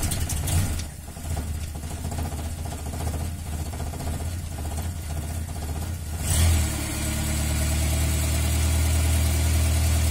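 A Renault 4L engine with an odd noise idles roughly, then revs with a surge and settles into a steadier, louder hum, close and continuous.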